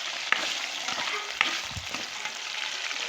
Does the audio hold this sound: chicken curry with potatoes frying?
yes